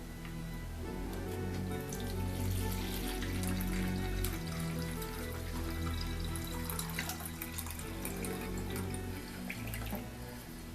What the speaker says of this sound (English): So what I'm going to do is pour off the vinegar